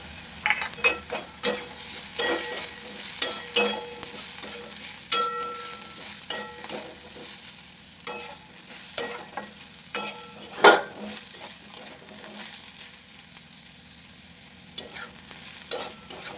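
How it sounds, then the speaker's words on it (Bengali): Freshly grated coconut being stirred and fried in a pan over low heat, with steady soft sizzling and irregular scraping spatula strokes close by, no voices. "এটা ভালোভাবে মিশিয়ে নিলাম"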